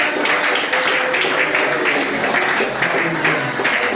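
A church congregation claps together during worship, a steady, rhythmic patter of many hands that continues for several seconds, with voices faintly audible beneath.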